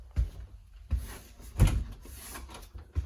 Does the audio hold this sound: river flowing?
no